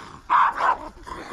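Two puppies bark on a forest walk, a pair of close, loud yappy barks in quick succession followed by a fainter third yip.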